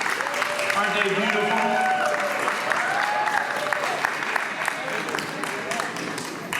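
A school-district audience applauds honoured board of education members, the clapping a broad steady wash throughout with a voice talking over it.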